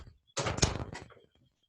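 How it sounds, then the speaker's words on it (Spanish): A door is shut to keep out construction noise, giving one close, broadband push-and-thud lasting about a second in an otherwise quiet room. "Esperen que voy a cerrar la puerta"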